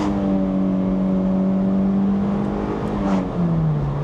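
A manual car's engine drones loud and close, its pitch holding steady and then dropping as it shifts gear.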